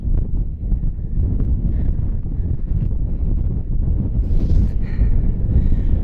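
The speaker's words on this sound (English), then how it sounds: "It is so windy and cold." Strong wind near the summit of South Sister, a mountain, buffets the microphone in a steady, low rumbling roar, with faint rustling and no voices.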